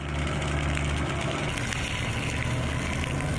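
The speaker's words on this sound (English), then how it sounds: "Now it's brought down to idle. I mean, the engine hasn't even been running 3 minutes yet." A Perkins 135 diesel in a 1986 Monk 36 single-screw trawler idles at a steady low rumble, a constant close throb with a hint of water around it and no voices.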